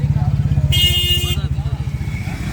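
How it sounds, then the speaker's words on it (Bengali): A motorcycle rolls in through a gate close by, its engine putting out a fast, regular pulsing throb from start to finish, with a brief high tone cutting in partway through. "দেখে বাইক আছে, বাইক ঢুকছে"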